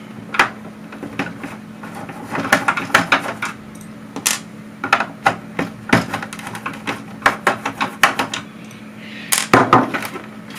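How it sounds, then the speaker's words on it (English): Small metal screws being worked loose and removed from a Commodore 64 case, giving a string of sharp clicks, taps and light metallic clatter at close range, with a steady low hum underneath. "Just take these 3 screws out."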